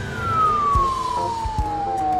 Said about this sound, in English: That is the cutest fire engine I've ever seen.